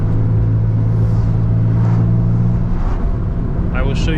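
A 2005 Infiniti G35 with a 6-speed manual drives along with a loud, constant low engine drone and road rumble heard from inside the car, with some talking over it.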